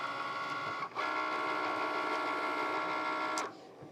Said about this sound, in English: I'm just gonna hit the Cricut machine. It's gonna cut the first letter.